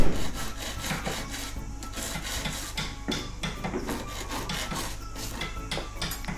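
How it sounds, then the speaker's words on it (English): A jigsaw cuts through wood for Hoi An pearl shell inlay handicraft, giving a rapid, rasping stroke pattern that stays steady and close for several seconds with no speech. "Then they use the jigsaw to take the wood out."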